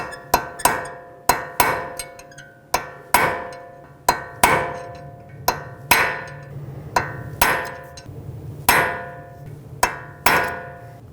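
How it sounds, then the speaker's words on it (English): Hammer striking a punch to peen over a wheel bearing nut on a 2012-2017 Toyota Camry, roughly a dozen sharp metallic clanks at an uneven pace, close and loud, each ringing briefly. "So take a punch or a chisel bit and a hammer and just punch it down a little bit."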